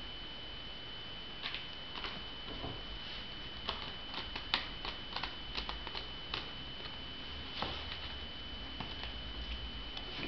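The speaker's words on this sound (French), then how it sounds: "Je remélange une troisième fois." A deck of playing cards gets shuffled by hand in a magic routine, a soft continuous riffling patter broken by sharper flicks and snaps, close and fairly quiet, with no one talking.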